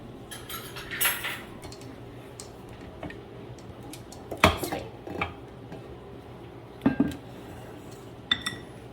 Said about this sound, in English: We're going to use our spatula so that we can nicely incorporate that all together.